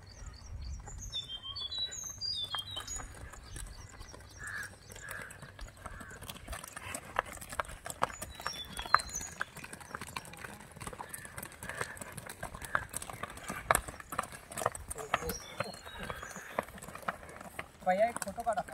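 Khillar breed bulls arrive with a steady clip-clop of hooves on hard ground, moderately close, while birds chirp throughout and people talk nearby.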